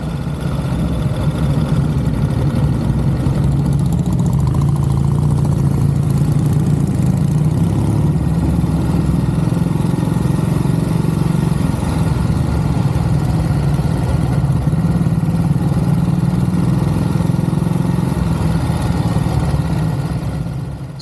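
A steady, loud motorcycle engine drones without a break during a Sunday-morning road ride near a market town, mixed with road and wind rumble and no speech.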